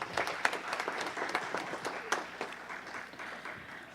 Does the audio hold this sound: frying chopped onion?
no